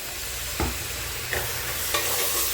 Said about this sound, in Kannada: ಇದು ಚೆನ್ನಾಗಿ ಎಣ್ಣೆ ಬಿಟ್ಕೊಳ್ಳೋವರೆಗೂ ಫ್ರೈ ಮಾಡ್ಕೊಳ್ಳೋಣ